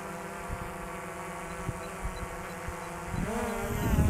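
An Autel Evo 2 drone hovers over its landing pad on a return-home flight, then climbs, a steady buzzing whine that rises and grows louder toward the end.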